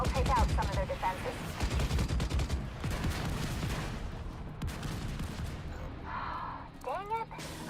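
Dense, continuous battle in The Division 2, with rapid overlapping gunshots and heavy mortar-like impacts rumbling low throughout, loud and close, while voices talk intermittently toward the end.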